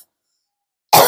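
A single sharp cough from someone with a cold bursts out loud and close at the very end, after about a second of near silence.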